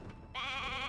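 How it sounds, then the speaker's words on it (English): A single sheep bleats loudly and close in the video game Divinity: Original Sin 2, a wavering nasal call that starts after a brief quiet moment and holds to the end. "Hey, a sheep."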